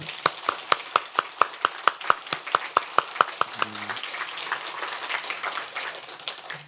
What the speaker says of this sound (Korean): 우리 선교사님 두 분 선교사님 우리 감사의 박수 한번 더 올려드리죠